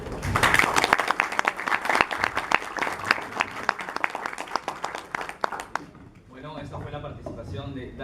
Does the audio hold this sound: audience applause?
yes